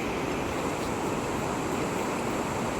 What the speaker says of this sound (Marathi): मैया एकदम अशी खळखळून खळखळून वाहते